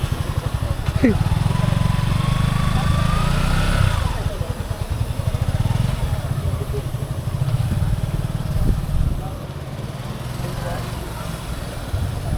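A Honda Navi motorcycle engine rumbles and revs nearby during a manual riding lesson, a steady low chugging that rises and falls over several seconds, with people talking over it.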